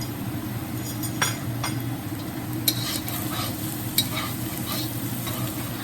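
Indian spices stirred in a hot pan give a loud, steady sizzle with a few sharp spoon clinks against the metal.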